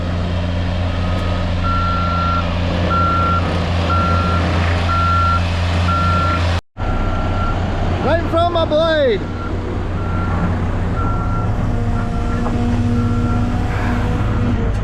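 A steady, evenly spaced electronic beeping alarm from a CAT 315 Next Gen excavator runs through a loud engine drone, with a voice talking briefly in the middle.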